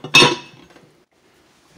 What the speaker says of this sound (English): Then I'm going to take my 400 degree spoon and mix it well.